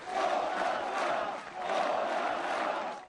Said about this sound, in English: Some of the loudest cheers coming as he discussed Russian involvement in the region